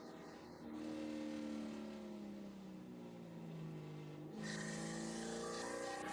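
Spec Corvette race cars lapping Virginia International Raceway, with engine tones that rise and fall as the cars pass at a steady moderate distance. A louder, brighter surge comes near the end.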